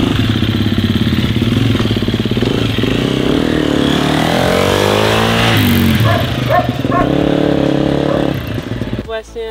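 KTM 250 EXC-F dirt bike engine running steadily while riding, loud and close with rising and falling revs, then cutting off toward the end.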